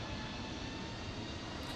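Steady broadband roar of Airbus A330-900neo jet engines inside Microsoft Flight Simulator 2020, a constant, dense rumble with no break, running alone at moderate level.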